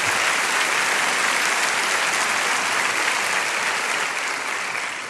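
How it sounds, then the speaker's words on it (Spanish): Loud, sustained applause from a church audience during a sermon, a steady roar of many hands clapping close by that holds for several seconds without talk. "denle ese fuerte aplauso a Dios"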